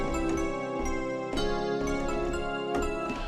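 Arabic-scale chords made with the Chord Prism tool play as sustained, harmonically rich synth chords. They change every second or so, loud and steady, with no voice.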